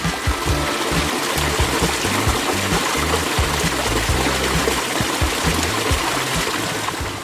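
Backyard pond water feature trickling and splashing continuously, a close, dense babble of falling water with no voices over it.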